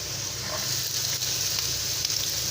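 Food sizzles and fries steadily in a pan as it browns, a loud, close, continuous crackling hiss with no talk over it.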